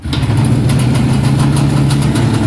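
An IZh motorcycle engine idles at low revs in a cold garage, with a loud, close, steady throbbing rumble and fast, even firing pulses throughout.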